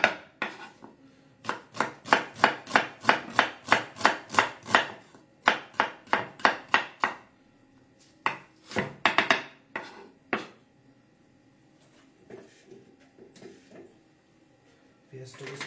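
A knife slices an onion on a cutting board for hot-spicy cheese noodles: quick, close, rhythmic chops in bursts, separated by brief pauses and a few softer taps near the end.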